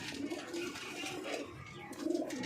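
Soft, repeated throaty cooing from a pigeon in a fancier's loft, several rolling coos close by, with no talk over them.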